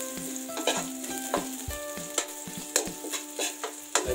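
Garlic frying in a pan, a crisp steady sizzle broken by repeated sharp clicks and scrapes of a utensil stirring against the metal, close and with no voices.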